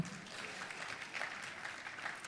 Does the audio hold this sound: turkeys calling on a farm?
no